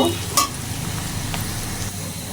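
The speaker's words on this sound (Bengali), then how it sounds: "নাড়াচাড়া করে একটু ভেজে নিব, বেশ কিছুক্ষণ বড়ি নাড়াচাড়া করে একটু ভেজে নিব।" Spices and a soybean mix are stirred and fried in a pan, making a steady, close sizzle with an occasional scrape of the spoon.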